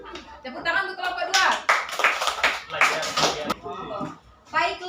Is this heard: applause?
yes